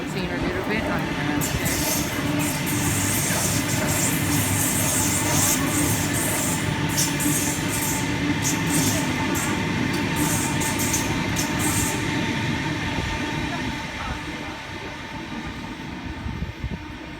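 Train pulling into a platform at Newtown station, a steady loud rumble of wheels and motors with high brake or rail squeal bursts through the middle, easing slightly toward the end; faint background voices may be present.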